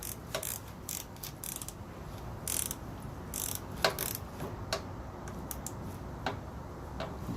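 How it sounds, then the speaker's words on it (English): A wrench works a rusted welded nut under a Hyundai Entourage during a transmission leak repair, giving faint, irregular metallic ticks and clicks spaced a second or so apart over quiet background noise. "The nut is turning, and it's a welded nut."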